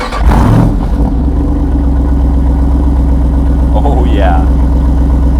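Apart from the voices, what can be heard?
Jeep 392 engine starting up, exhaust sound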